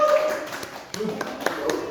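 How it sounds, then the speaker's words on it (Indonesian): A handful of scattered claps from a classroom of students applauding group two in a religion class, uneven and sparse rather than a full ovation, with voices faintly in the background. "Beri tepuk tangan untuk kelompok dua."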